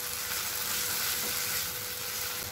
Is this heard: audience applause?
no